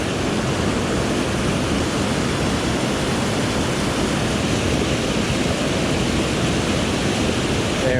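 A waterfall beside a trout-fishing spot gives off a steady, loud, broadband rushing roar. It is unbroken for eight seconds, with no voices.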